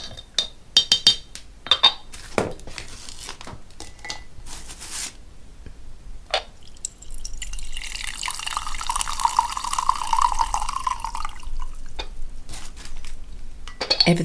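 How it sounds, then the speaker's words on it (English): Green tea being made and poured: a few sharp clinks of cup and utensils, then a steady stream of liquid pouring into a cup for several seconds, close and clear with no talking. "I think I'm going to have to pour some green tea"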